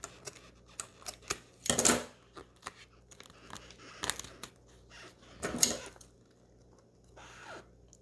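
Scissors cut through material for a doll craft, with two sharp, close snips separated by a few seconds and light handling clicks and rustles in between.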